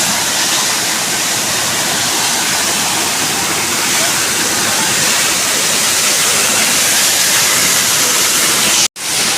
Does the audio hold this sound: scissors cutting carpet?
no